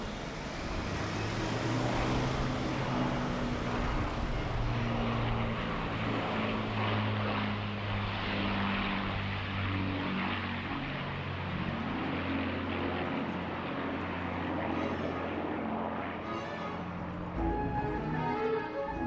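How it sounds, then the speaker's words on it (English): Avro Lancaster bomber PA-474 of the Battle of Britain Memorial Flight at an air display, its piston engines giving a continuous loud propeller drone with steady low tones, no talk over it. "The Battle of Britain Memorial Flight's Lancaster has participated in countless displays"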